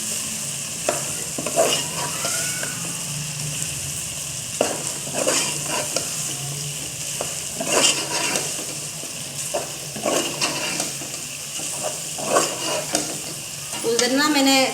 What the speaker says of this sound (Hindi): अब इसको हम अच्छी तरह ना चिकन को भून लेंगे